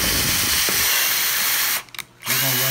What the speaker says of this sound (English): Make sure y'all pre-drill y'all holes